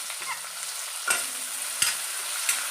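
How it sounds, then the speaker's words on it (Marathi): Chopped onion frying in ghee with cumin seeds, a soft steady sizzle punctuated by a few sharp spoon scrapes and taps against the pot, quiet and close with no talking. "जिरं छान फुललं की आपल्याला याच्यामध्ये कांदा घालून घ्यायचा आहे"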